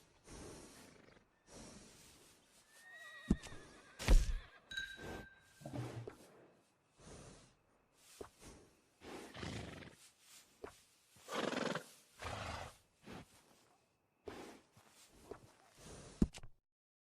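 A workhorse whinnies and snorts repeatedly in Red Dead Redemption 2, with short neighs and breathy blows spaced across the stretch alongside a few hoof clops, fairly close and otherwise quiet.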